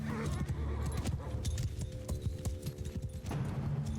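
Cavalry horse hooves clip-clop in Mount & Blade II: Bannerlord video game, with a busy stream of hoofbeats, jingling tack and battle noise. A player talks briefly over it.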